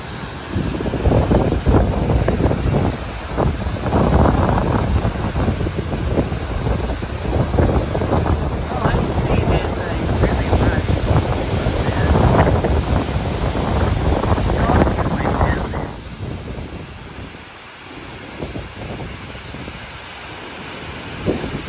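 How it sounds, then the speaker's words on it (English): A waterfall at Taheke Scenic Reserve, New Zealand, heard as a loud, steady broadband roar much like strong wind, which drops noticeably near the end as the listener moves away. "I thought the wind was getting louder, but it's actually the sound of the waterfall."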